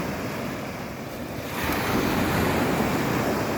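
Strong sea waves at a beach in Lobo, Batangas, rushing in a steady, loud roar that swells slightly midway, with wind buffeting throughout and no voices.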